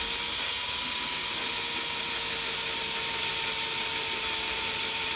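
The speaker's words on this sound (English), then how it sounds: "I'm just going to go ahead and drill that now" A small power drill with a metal bit bores into the chassis of a Bachmann Class 159 model train, giving a steady, close whirring hum with a high-pitched mechanical whine that runs unbroken throughout.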